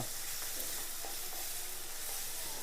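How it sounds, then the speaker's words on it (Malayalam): Onion, garlic and crushed ginger sizzle in a pan for a mussels fry, giving a steady, even frying hiss with faint stirring scrapes underneath and no voices. "വെളുത്തുള്ളിയും ഇഞ്ചി ചതച്ചതും പാടെ അങ്ങോട്ട് തട്ടി കൊടുത്തിട്ട് ഒന്ന് ഇളക്കി കൊടുക്കുക"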